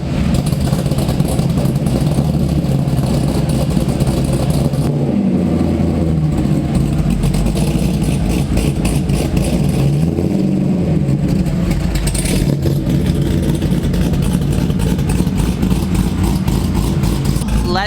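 A C6 Corvette fitted with two-step launch control runs loud and close on a cold day, idling with a deep rumble that swells into revs and then settles again, with no talking over it.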